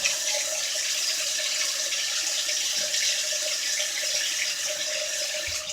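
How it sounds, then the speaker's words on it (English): Water pours steadily from a tap into a sink, a constant loud hiss and splash close by, with no talking. "Turn this water off so you can hear me."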